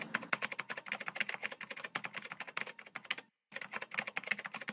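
Fast, steady typing on a computer keyboard up close, with dense overlapping key clicks, one brief pause, then more rapid tapping.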